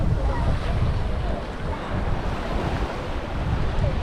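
Surf at Dadonghai Beach in Sanya on Hainan Island washes in steadily, mixed with heavy wind buffeting on the microphone, loud and continuous with no clear breaks.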